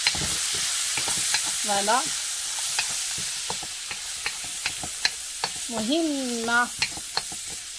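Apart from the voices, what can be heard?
sautéing vegetables in a pan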